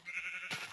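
A Minecraft sheep bleats once, a short nasal wavering cry that ends in a brief breathy burst.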